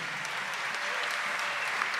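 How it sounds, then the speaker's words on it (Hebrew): An audience at an orchestra concert applauds in a dense, steady patter of many hands clapping together, with no break. "ומגיע לו הרבה כפיים"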